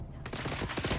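Rapid bursts of automatic gunfire from the video game Dune Awakening crackle in quick succession, dense and fairly loud, running through the whole moment.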